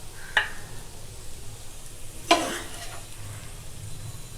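Ivy gourd (kundri) fried with coconut is stirred and scooped from a pan after the stove is switched off, with two brief scraping clinks over a quiet, faint sizzle and no talking.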